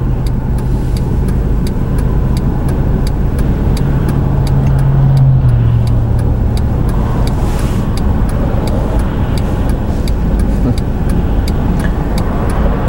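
Steady traffic roaring past on a busy multi-lane road while waiting at a junction to turn, a continuous loud wash of car engines and tire noise with no pauses.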